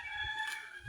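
A turkey hen calling on a farm, a brief nasal tonal call, close and clear, lasting under a second.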